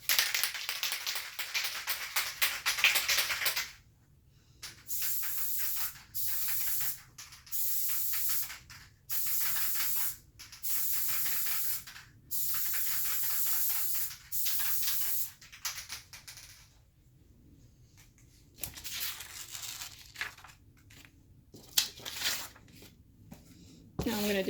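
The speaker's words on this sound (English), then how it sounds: "Now I'm going to use spray glue." Spray glue hisses onto a stainless steel tumbler in repeated bursts of a few seconds each, separated by short silences, loud and close with a few light taps between.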